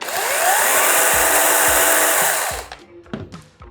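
A Procraft PKA60 cordless chainsaw runs with a loud, high, steady motor whine for about two and a half seconds, then cuts off, leaving a few faint clicks and handling knocks.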